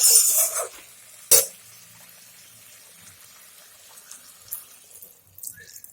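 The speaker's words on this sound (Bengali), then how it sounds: "এখন আমি একটু জল দিয়ে দিব" Water poured into chili chicken in a pan, a brief splashy burst at the start followed by a sharp hiss, then quiet sizzling and faint clatter.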